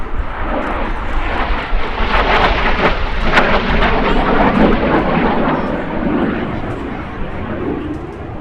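A Korean War–era F-86 Sabre jet fighter flying a display at the Midlands Air Festival 2025 roars past in a broad, loud rumbling jet wash that swells and then slowly eases.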